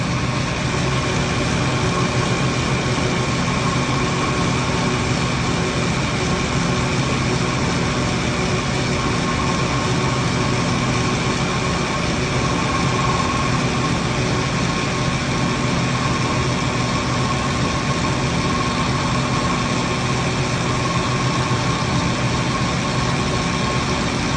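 A belt grinding machine hums steadily and loudly as it removes mill scale from a 1/4 inch hot rolled steel plate, a constant unbroken drone with no talk.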